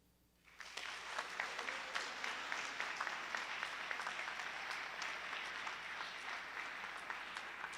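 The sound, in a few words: audience applause after student speeches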